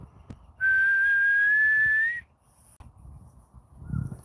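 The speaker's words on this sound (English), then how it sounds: "so we got to bring out the big whistle" A loud, sustained whistle blast, held for about a second and a half and rising slightly in pitch, blown to call a dog back outdoors, with quieter ambient sounds before and after.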